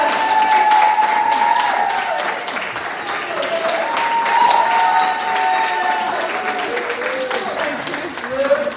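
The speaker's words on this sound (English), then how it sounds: "give her a round of applause" Graduation crowd at a 2021 commencement ceremony claps steadily for a graduate, a sustained roomy applause with tonal music or voice lines running underneath throughout.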